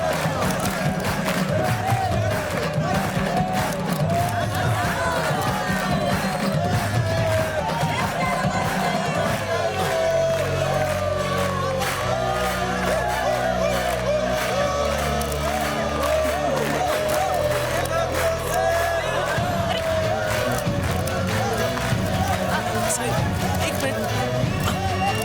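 Noisy crowd shouting and cheering outside a car, a dense continuous roar of many voices with whoops and yells, loud and close throughout, with music-like tonal layers underneath.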